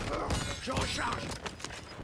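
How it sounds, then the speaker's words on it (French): A weapon reloads in the game Warzone, with quick mechanical clicks and metallic clatter over dense game noise and faint voices. "Je recharge."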